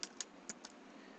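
A few quiet keystrokes on a computer keyboard as a number is typed in, four or five soft separate clicks close by with no talk.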